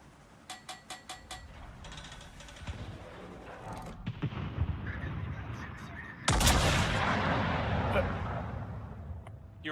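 Naval guns fire in a World of Warships game, a quick rhythmic run of sharp shots, then scattered booms and a loud sustained blast near the end, with players talking underneath.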